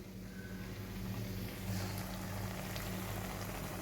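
Potol kofta, stuffed pointed gourd, frying in oil, a low, soft, continuous bubbling sizzle heard faintly and steadily with a faint background hum.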